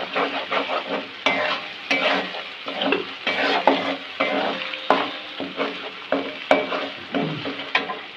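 Food frying in oil in a pan for Bengali muri ghonto made with Gobindobhog rice, stirred with repeated rhythmic scraping strokes over a steady close sizzle, with no voices.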